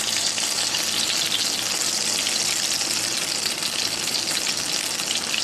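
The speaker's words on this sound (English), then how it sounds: "I'm going to saute them like this." Vegetables sauté in a pan with a loud, dense, continuous sizzle that holds steady throughout, close up and alone.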